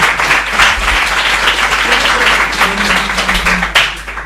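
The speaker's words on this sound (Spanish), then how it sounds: "Otro aplauso para Robert, por favor." Studio audience clapping for a guest at a live spiritual interview, a dense, loud wash of applause held steady throughout with a slight swell near the end.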